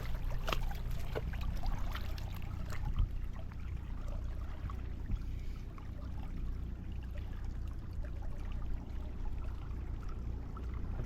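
Fast-flowing village stream near Mumbai during net fishing, a continuous close rushing and gurgling wash with a few sharp splashes early on, steady and alone without voices.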